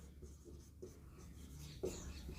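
Chalk or marker writing on a classroom board during a biology lesson, producing soft, close scratchy strokes in short bursts with a few sharper taps.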